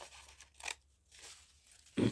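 Scissors snip bits off collage paper for an art journal, a few quiet, close crisp cuts with a crunchy paper sound, the last snip the loudest.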